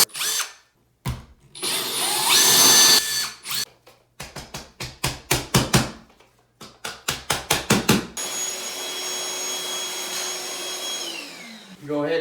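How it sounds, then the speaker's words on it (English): A power drill bores holes into a tiled shower wall, with a long whining run, then a series of rapid short bursts, then another sustained grinding stretch, loud and close with no speech. "and go ahead and drill them."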